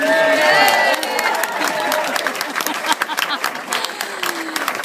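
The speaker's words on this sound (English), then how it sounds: "So if you give me a big round of applause to show our appreciation." Wedding reception guests break into loud applause and cheering, a dense wash of clapping with whoops that swells at the start, then eases into scattered claps and crowd chatter.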